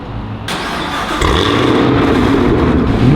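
Car engine started by remote start, a sharp crank that catches and settles into a steady close idle that rises slightly near the end, no voices.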